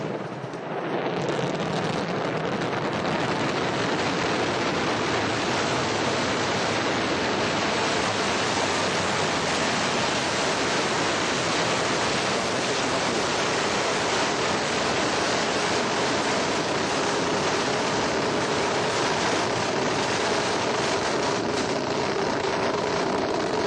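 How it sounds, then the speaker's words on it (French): An Ariane 5 rocket lifts off at night with Vulcain main engine and solid boosters ignited, a continuous, overwhelming broadband roar that holds steady and loud for over twenty seconds, with no voices over it. "Allumage Vulcain. Allumage des EAP et décollage."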